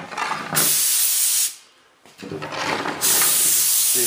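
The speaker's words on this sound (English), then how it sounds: "I'm going to show you how to spray this mold release." Mold release sprayed as a fine mist from a spray gun in a workshop setting for laying up aircraft gear doors, a loud, close steady hiss in two long passes split by a brief pause.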